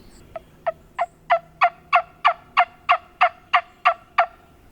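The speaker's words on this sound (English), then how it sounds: "Just had some birds gobble over that way" A wild turkey gobbles in a fast, even series of about a dozen throaty pulses, moderately distant, with no other sounds around it.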